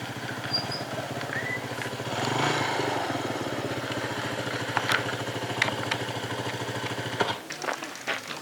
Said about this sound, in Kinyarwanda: tujye kuri moto tugenda